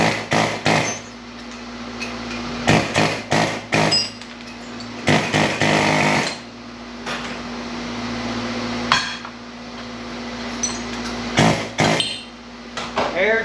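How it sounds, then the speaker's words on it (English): Air chisel cutting scrap metal: loud rapid bursts of pneumatic hammering and clanging metal in repeated short runs, with a steady compressor drone between them and brief speech. "Air chisel for the win."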